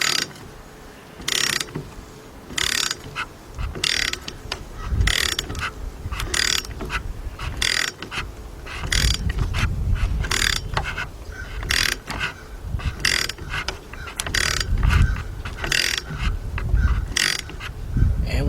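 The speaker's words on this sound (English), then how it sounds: "Now my ratchet is on reverse" A hand ratchet clicks steadily while turning the power steering pulley on a Mercedes E320, a rapid buzzing of pawl clicks in repeated strokes with short pauses between, close and loud, with faint mechanical clatter underneath.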